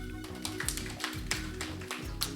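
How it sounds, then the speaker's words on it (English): An audience at a business mastermind event claps in quick, uneven bursts over a low, steady background hum. "Let's clap for her."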